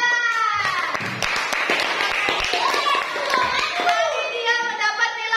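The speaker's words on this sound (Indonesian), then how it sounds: "Tepuk tangan." Scattered hand clapping from a group of students during a classroom quiz lesson, mixed with overlapping voices, some of them children's, speaking throughout.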